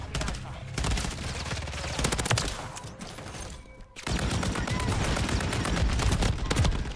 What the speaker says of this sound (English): Shooting that big ass LMG like that